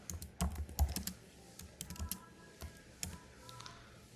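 Clattering keystrokes on a computer keyboard while a short C++ program is typed, irregular clusters of close, crisp clicks with brief pauses between bursts.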